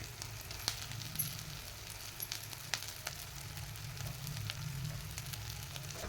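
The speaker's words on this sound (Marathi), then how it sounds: "आणि ही अंडी आता या मसाल्यामध्ये 1 मिनिटभर भाजून घ्यायची." Eggs fry in a spiced masala in a pan with a soft, steady sizzle and scattered small crackles and pops, fairly quiet and close with no talking.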